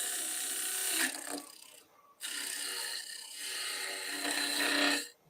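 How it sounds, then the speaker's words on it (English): A spindle gouge cuts cherry wood spinning on a lathe, a close, continuous rasping scrape that sounds in two long passes with a brief quiet break between them. "if I cut with this gouge"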